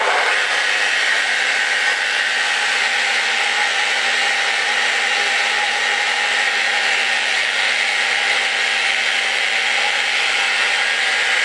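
A steady, continuous whir of a Festool RO 150 FEQ Rotex eccentric orbital sander running at speed setting 1 in fine sanding mode, with a broad hissy grinding texture and no pauses for the full duration.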